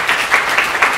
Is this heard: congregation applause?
yes